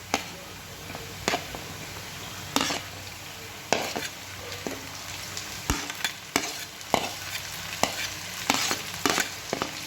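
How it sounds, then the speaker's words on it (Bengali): Chopped capsicum goes into a pan of frying potatoes, giving a continuous sizzle broken by a series of scraping stirs and spatula knocks at irregular intervals. "আলুটা ভাজা ভাজা হয়ে গেছে কিছুটা। এবার আমি এতে দিয়ে দিচ্ছি ক্যাপসিকাম কুচিগুলো।"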